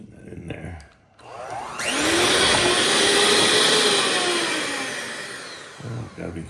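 An electric mixer, either hand or stand, beats pickle dip ingredients. After a quiet start with handling, it roars up to a loud, steady whirring that tapers slightly before stopping near the end.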